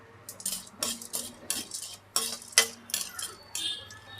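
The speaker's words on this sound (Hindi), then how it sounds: "तो इसमें हम ये गोंद भी डाल देते हैं, हम थोड़ा थोड़ा करके भूनेंगे गोंद को।" Edible gum (gond) roasting over low heat in a pan for sugar-free dry fruit laddu, with a spatula making a run of sharp, irregular clinks and scrapes against the metal, close and fairly quiet, with no talking.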